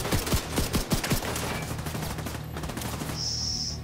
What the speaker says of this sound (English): Stop it with the shooting.